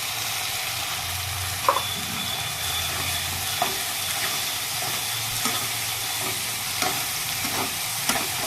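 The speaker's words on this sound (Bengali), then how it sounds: "এখন আমি দিয়ে দেবো ভেজে রাখা আদা রসুন আর কাঁচা লঙ্কার পেস্ট, অর্ধেকটা পরিমাণে দিলাম।" Ginger, garlic and green chilli paste, fried earlier, sizzles steadily in a pan of tomato-based chicken curry masala made with fresh cream, with soft stirring clicks and scrapes every second or two and no talking.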